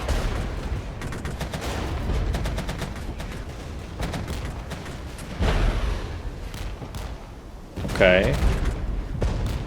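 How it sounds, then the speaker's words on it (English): Artillery fire in the strategy game Regiments lands as steady distant rumbling booms, amid rapid gunfire bursts, with a sharper louder blast near the end and someone briefly speaking over it. "The artillery coming down on top of them as well is kind of tough."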